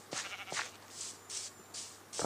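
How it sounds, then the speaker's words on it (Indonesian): Sheep bleating in Minecraft Pocket Edition, several short nasal bleats in a loose series at moderate distance inside a simple pen, heard alone with no talk. "Oke, domba."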